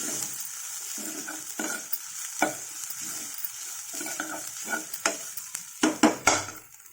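Grated coconut sizzles as it fries in a pan, with steady frying hiss broken by repeated scraping stirs that grow louder and more frequent toward the end; no voices.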